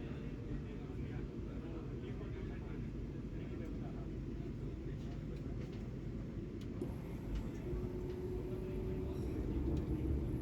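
Steady low rumble of the Ernakulam–Bengaluru Vande Bharat Express accelerating, heard from inside the train, a continuous droning rush that grows slightly louder toward the end, with talk over it.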